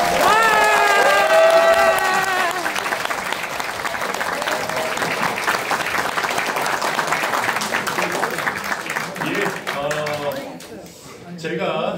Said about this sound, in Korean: 큰 박수로 다시 천하람 대표 모시도록 하겠습니다